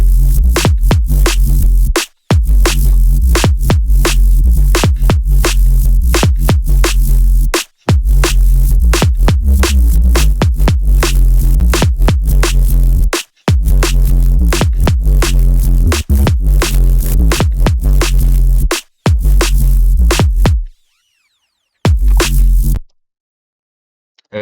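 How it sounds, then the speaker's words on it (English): Distorted drum and bass sub bass line: loud, throbbing low tones pulsing in a steady rhythm with gritty, buzzing artifacts, broken by short drops to silence and ending in near silence. "there's some like funny like little artifacts being produced by just some distortion and stuff in there"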